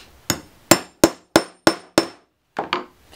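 Six sharp, evenly spaced hammer blows driving a hole punch through scrap leather, followed by a softer double strike, loud and close with no talk.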